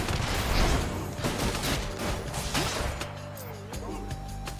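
Artemis' seeking-missile cast fired repeatedly in the Hades video game, a rapid fusillade of sharp cracking hits with whooshing tones, busy and loud at first then thinning out, with a voice talking over it.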